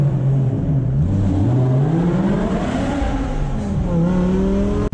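BMW M6 with a V10 engine and manual gearbox revving hard while driving, loud and close from the cabin, the pitch climbing and dropping through gear changes in a continuous strong drone.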